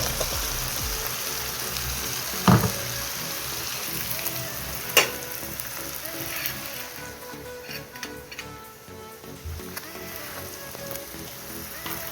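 Garlic sizzles and crackles in hot oil in a pan while cooking a pangas fish bhuna, a steady hissing fry with a couple of sharp clanks from a utensil against the pan.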